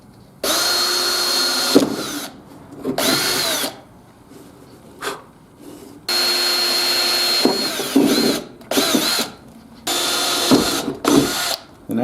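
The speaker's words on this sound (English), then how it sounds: "I'm just going to hold this in place and drill them." A power drill whirs loudly in repeated bursts as it drills into aluminum on a boat, spinning up for a few seconds at a time with short pauses between, close by.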